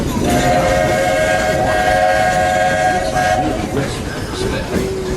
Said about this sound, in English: This old steam train needs water to keep going, just like you and me